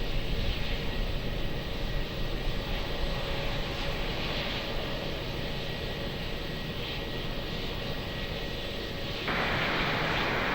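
An airplane approaching to land at Lisbon Airport, a distant continuous engine drone and broadband rumble holding steady throughout, with no talk audible.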